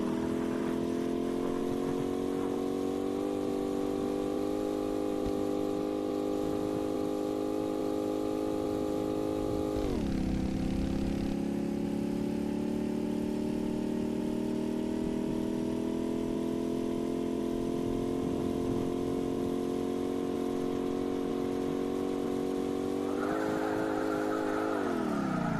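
A vehicle engine drones steadily while driving in the VRChat video game, holding a loud, continuous tone that drops in pitch once, then climbs again near the end.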